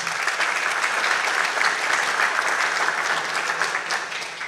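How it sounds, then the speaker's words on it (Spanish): Steady applause from a crowd at a mining innovation conference, dense and continuous for the whole stretch, fading slightly at the end. "Un aplauso también cordial para él."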